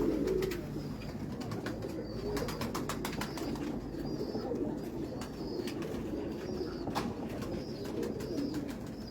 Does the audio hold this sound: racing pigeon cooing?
yes